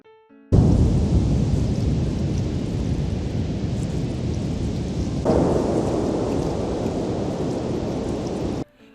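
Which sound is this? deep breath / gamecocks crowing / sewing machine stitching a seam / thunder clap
thunder clap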